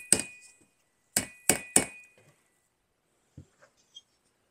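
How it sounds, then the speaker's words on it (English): Parts being hammered onto a Harley CVO: three or four sharp metallic strikes, close and clear, with faint small taps and clinks between them. "But what you gotta do, basically hammer these on without damaging them."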